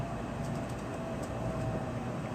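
Shinkansen Hikari train on the Sanyo line through mountainous country near Shin-Iwakuni, heard as a steady, even cabin rumble and rolling hum with no break and no voices.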